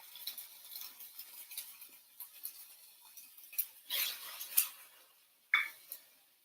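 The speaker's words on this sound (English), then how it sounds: "And I want to saute my onions." Onions frying with ginger in a pan make a quiet, steady crackle and hiss, with soft scraping and a few sharper clinks from a utensil against the pan.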